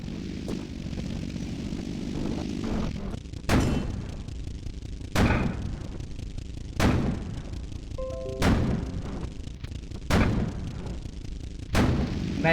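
Tank cannon fire in the Sprocket video game, about six heavy booming shots spaced roughly every one and a half seconds over a steady low engine rumble, each one loud and sharp.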